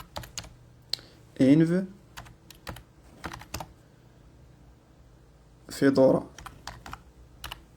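Quick bursts of typing clatter on a computer keyboard, short runs of keystrokes scattered across the stretch, with a person speaking briefly in between.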